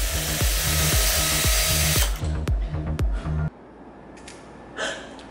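A power drill bores into a wall in rapid pulsing bursts for about three seconds, ending in a few sharp stutters, followed by quieter room noise and a faint breath.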